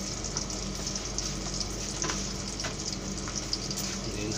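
Chicken adobo fries in a pan with a dense, steady sizzle, close and continuous, while a utensil stirs it with occasional light scrapes and clicks; no one speaks.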